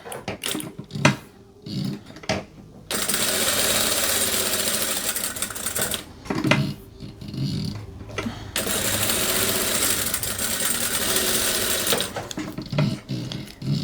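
A sewing machine runs in long steady bursts as it stitches a seam in a dressmaking atelier, with a brief reverse stitch and short pauses between runs, loud and close, no talk.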